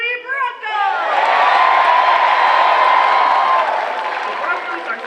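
Football stadium crowd cheering at a Central Michigan versus Western Michigan Broncos game, a broad, loud roar of voices swelling and holding steady, with shouts and a voice over the top at the start.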